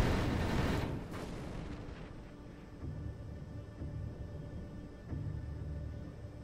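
An enemy ship fires weapons at the player's ship in the space game Avorion: a loud booming burst opens, then settles into a rumbling bed with repeated muffled thuds and blasts.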